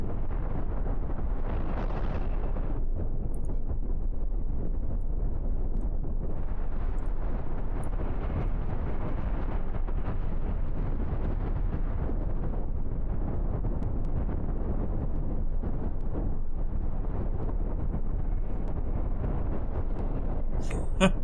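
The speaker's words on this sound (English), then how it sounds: "I love seeing the big explosions." Large spaceship explosions in the space game Cosmoteer make a loud, continuous rumbling roar that surges and eases for about twenty seconds with no pause.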